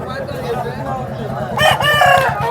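A rooster crowing at the Vijayawada poultry market, one loud nearby crow rising over a steady low rumble of market chatter and hubbub.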